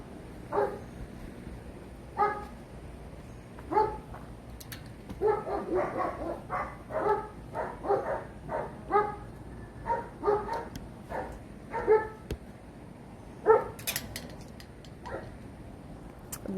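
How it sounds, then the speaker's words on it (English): A dog barks in short, sharp single yaps spaced a second or two apart, sometimes clustering faster, moderately close over a quiet room background with no talking. "I've never heard anything from my neighbors about dog barking."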